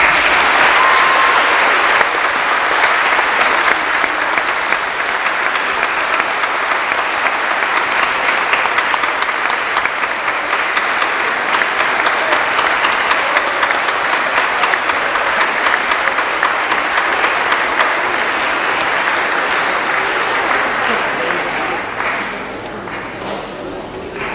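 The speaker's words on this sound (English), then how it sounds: "why don't you salute with a loud applause your parents first, your faculty second" Loud, sustained applause fills a chapel at a 1989 high school graduation ceremony, a dense crowd clapping steadily for over twenty seconds before easing off near the end.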